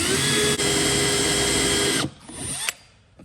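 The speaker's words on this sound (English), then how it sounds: "I just think it would be easier to drill it out from the back" A power drill whirs steadily at high speed for about two seconds, drilling through a Honda Accord rear bumper from the back, then spins down and stops, followed by a brief scrape and a short final whir.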